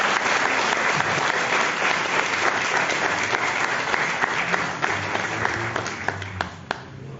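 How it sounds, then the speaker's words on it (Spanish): An audience at a homage to Óscar Colchado in Chimbote bursts into strong, sustained applause, dense clapping that thins into a few scattered louder claps as it fades out. "Un aplauso para Óscar Colchado."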